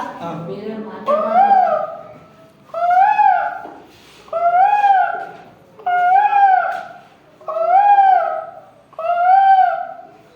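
A voice imitates a cuckoo's call, repeating a two-note hooting cry about six times in a steady, evenly spaced rhythm, loud and close.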